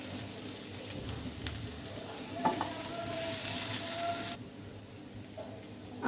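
Potatoes and onions frying over a low flame and stirred now and then, a soft, continuous sizzle with a few scraping knocks of the spoon, fairly quiet and without talk.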